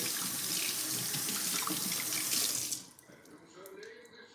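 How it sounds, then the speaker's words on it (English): Kitchen tap water running into a sink to rinse fruit, a steady splashing stream that stops abruptly partway through, leaving quiet room sound with faint movement. "I like to rinse the fruits a little bit."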